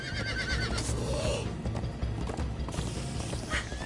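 Horses gallop in the Minecraft Story Mode game, rapid rhythmic hoofbeats thudding close and continuous, with a brief whinny and mechanical clicks over a game soundtrack.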